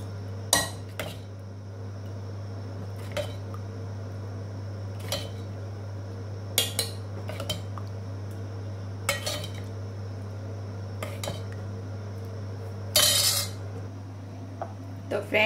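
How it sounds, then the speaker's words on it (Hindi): A ladle serves dal palak, a Sindhi-style lentil and spinach dish, from a pot into a bowl, with scattered metallic clinks and taps over a steady low background hum. "आइए इसे हम बाउल में निकाल लेते हैं"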